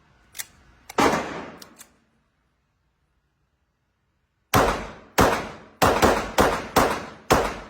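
Pistol shots at a shooting range, loud and close: two early reports and a third, a pause of silence, then a steady run of six sharp cracks, each ringing off in a short decay.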